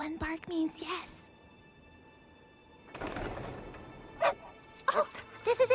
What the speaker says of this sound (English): One bark means yes.